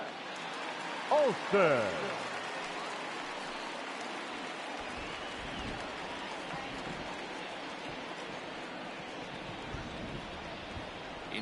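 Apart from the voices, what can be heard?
rain falling on baseball stadium in MLB The Show 20 video game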